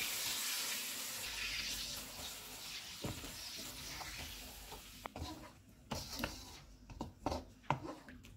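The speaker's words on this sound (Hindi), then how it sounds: "इसमें आधा कप पानी डालेंगे।" Half a cup of water poured into browned chicken karahi on a lowered stove, a hissing, splashing pour followed by scattered clinks and bubbling sizzle, fairly faint.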